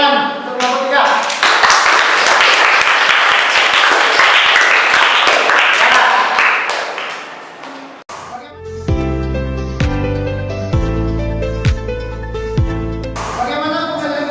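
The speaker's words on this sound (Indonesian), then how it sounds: "Oke, tepuk tangan untuk kelompok 3." Classroom applause for a student group, lively clapping for several seconds that stops abruptly, after which loud music takes over.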